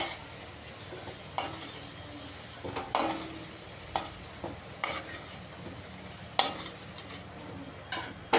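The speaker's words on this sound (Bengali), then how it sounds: "একটু লাল করে ভেজে নিয়েছি আলুগুলো" Oil sizzles steadily in a pan as potatoes fry until reddish, a spatula scraping and clanking against the metal in irregular strokes, close and fairly loud.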